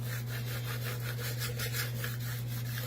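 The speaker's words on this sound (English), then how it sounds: "just squeegee the crap out of it." A squeegee scrapes across a print screen while layering multiple colors in screen printing, making quick, rhythmic rasping strokes over a steady low hum, with no voices.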